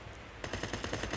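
Rapid automatic gunfire in the mobile shooter game Call of Duty Mobile, a quick burst of evenly spaced shots starting after a short quiet lead-in, moderately loud and heard alone.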